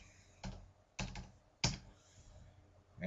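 Someone types a Twitter username on a computer keyboard, with a few quiet, close clusters of key taps separated by short pauses over a soft room hum.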